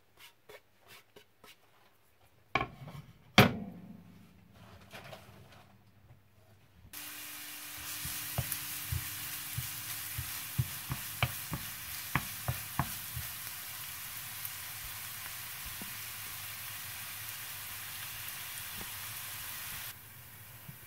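Garlic and shallots frying in oil in a pan begin with a few clatters and stirring knocks, then a sudden loud sizzle settles into a steady hiss, punctuated by scraping stir sounds, before cutting off.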